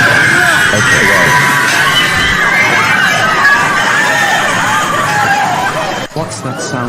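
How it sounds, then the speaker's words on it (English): A panicked crowd of subway passengers shouts and screams as they run out of a tunnel, forming a loud, constant wall of babble that cuts off abruptly near the end. "Why are the passengers running out and screaming"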